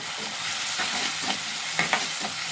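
Stuffed brinjal curry cooks in a pan with onions, with a steady close sizzle and a few soft stirring scrapes near the end, and no voices.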